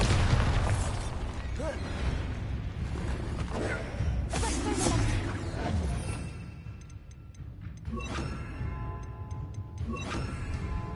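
A Bombarda spell explosion in Hogwarts Legacy sets off a dense burst of blasts and crackling debris, loud and close, then fades into clicking and ringing rubble sounds.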